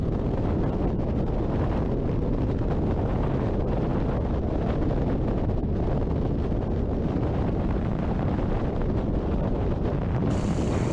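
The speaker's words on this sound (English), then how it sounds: "you've got all that wind blowing in your face, trying to blow the cube out of your hands" Loud wind roaring past during freefall in a skydive, a constant buffeting rush that fills the whole clip with no speech.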